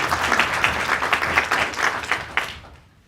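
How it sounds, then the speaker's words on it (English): An audience applauds an evening speaker's introduction with dense, steady clapping that carries for over two seconds and then fades away near the end. "let's give a big round of applause for"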